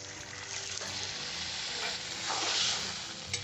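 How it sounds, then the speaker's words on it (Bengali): Raw olives tipped into a hot spice tempering with melting sugar for olive pickle set off a loud, dense, continuous sizzle that swells slightly partway through, heard close up with no talking. "ফোড়নের মধ্যে এখন আমি জলপাইগুলোকে ঢেলে দিচ্ছি"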